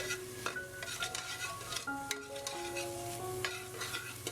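Onion sautés in a pan beside cauliflower, a soft sizzle under repeated scraping and stirring strokes, with faint tonal background music running throughout.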